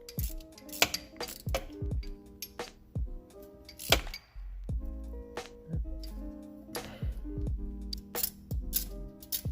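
Metal clinks and short ratcheting taps from tightening three shifter bolts in a star pattern on a 1990-1997 Mazda Miata transmission during a short shifter install, a close series of sharp knocks with brief pauses between them.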